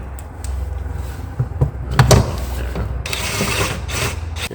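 Ratcheting Torx T27 screwdriver driving screws into a salvaged Jaguar F-Type door panel during a rebuild, close clicking pawl bursts building to a louder flurry midway, with no talk.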